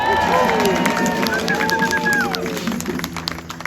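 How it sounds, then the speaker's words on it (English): A large crowd at a Fourth of July ceremony at Castle Clinton in Battery Park cheers and applauds in a dense, loud wash, with whistles and shouts rising above the steady roar before it slowly thins. "let us applaud them all!"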